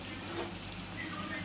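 Tomatoes fry in a pan of onions softened in oil with dry red chillies, giving a steady, even sizzle close by with no clear pauses.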